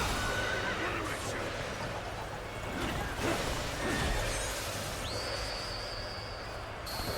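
Horse whinnying in the video game Dynasty Warriors Origins, a loud shrill neigh heard over hoofbeats, clashing battle noise and background game sounds.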